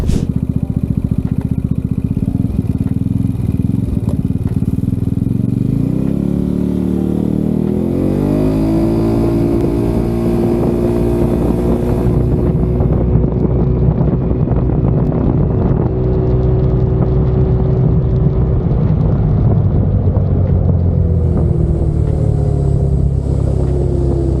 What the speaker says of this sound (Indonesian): sekarang kita mau coba tes motor Yamaha X-Max Turbo ini dari start